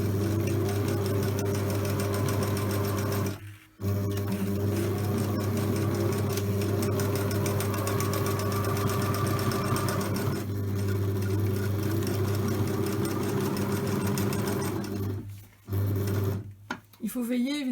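Home sewing machine stitching the full side of a homemade fabric face mask around an elastic, a steady close motor drone with brief pauses, with a voice talking over parts of it.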